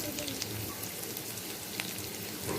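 Onion and chili sizzle in hot oil in a pan, a soft, steady crackle heard up close and alone, with fine popping throughout.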